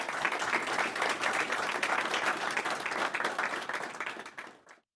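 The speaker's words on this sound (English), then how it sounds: "Please join me in a round of applause for our speakers." Audience at a conference session applauding the speakers, a dense steady wash of many hands clapping that fades out toward the end.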